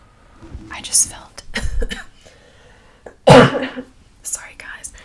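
A sharp, loud cough bursts out near the middle, with quieter breathy throat noises and soft whispery sounds before and after.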